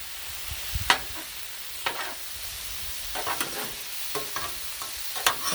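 A spatula scrapes and stirs chili on a flat griddle in a few separate, fairly sharp strokes, with a soft sizzle running underneath.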